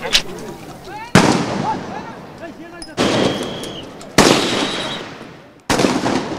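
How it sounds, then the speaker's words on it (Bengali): Repeated gunfire during a street protest, four sharp loud reports each followed by a long echoing decay, spaced about a second apart, with distant crowd shouts faintly underneath. "আশপাশে তখন মুহুর্মুহু গুলির আওয়াজ।"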